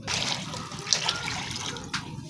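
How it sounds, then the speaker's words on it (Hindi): Water pours steadily into a pot of cooked mixed dal, a soft continuous splashing gush with a few brighter splashes, close and fairly quiet. "अब हम इसमें पानी डाल देंगे।"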